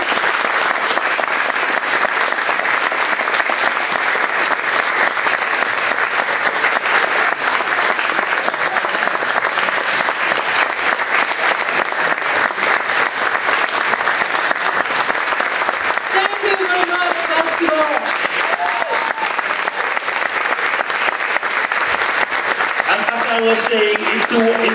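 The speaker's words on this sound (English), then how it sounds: "we greet you with a big applaud again" Sustained, loud audience applause filling a concert hall, dense and continuous throughout, with a voice and faint musical tones surfacing near the end.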